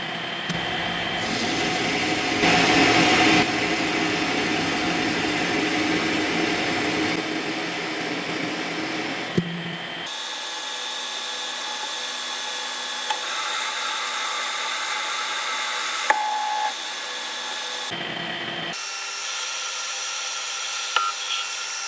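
A Colchester Chipmaster lathe cuts a metric thread with a screw-cutting insert, giving a steady loud machine whir with a sharp change partway through and brief clicks, no talking.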